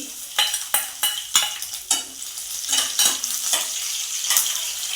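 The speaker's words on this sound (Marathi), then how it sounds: "मिनिटभर आपण तेलामध्ये परतून घ्यायचे आहे" Garlic and green chili fry in hot oil for methi bhaji while a spatula scrapes the pan in regular, fairly loud strokes over a continuous bright sizzle.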